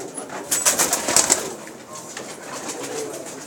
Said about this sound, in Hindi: शकील भाई की बहुत आला कबूतर है